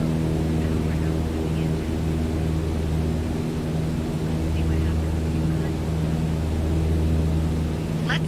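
Aircraft engine in Microsoft Flight Simulator droning steadily with a low hum throughout and a brief dip partway through.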